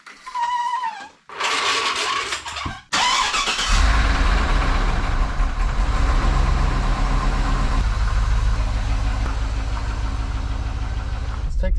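A Chevrolet Trailblazer SS engine cranks and fires, then settles into a loud, steady idle with a deep low rumble close by, after a couple of short opening bursts of noise.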